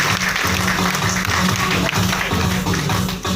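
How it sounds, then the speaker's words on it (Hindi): An audience at a seminar on a trading income plan claps vigorously, loud and continuous, with a low rhythmic musical thump running beneath the applause. "जोरदार ताली बजाइए बाइनेंस"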